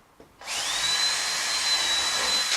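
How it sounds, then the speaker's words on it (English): A power drill bores screw holes for a carbon-fiber front lip on a BMW E36 M3, giving one steady, loud, high-pitched whine that runs for about two seconds after a short start. "So we drilled that."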